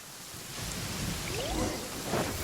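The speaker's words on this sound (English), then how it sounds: "Uh-oh! Lightning storm!" Thunderstorm rain hisses steadily in Genshin Impact while a low roll of thunder swells in the background, the downpour broad and even throughout.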